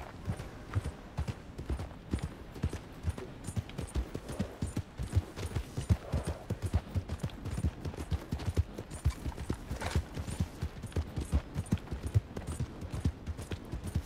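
Horse hooves gallop in Red Dead Redemption 2, a fast, continuous clip-clop rhythm of even beats at moderate volume throughout, with no talking.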